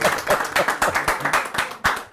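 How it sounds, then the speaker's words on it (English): An audience at a talk on asking questions claps for itself. Many hands clap loudly together in a quick, rhythmic patter with sharp individual claps standing out, and no speech. "clap for yourselves"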